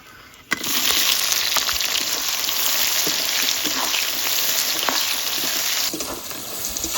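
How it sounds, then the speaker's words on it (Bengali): Chopped onions sizzle in a pan with cumin, dry chillies, cardamom, cinnamon, cloves and bay leaf. The frying hiss is loud and steady for several seconds, begins abruptly and thins out near the end. "পেঁয়াজ লাল লাল করে ভাজা হয়ে গেছে"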